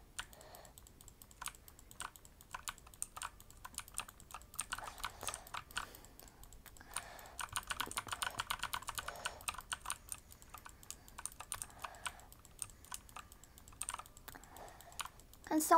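Rapid, dense clicking of computer keys or buttons while playing Roblox Bedwars rattles on in quick bursts for about fifteen seconds, close and fairly quiet, with a livelier stretch partway through.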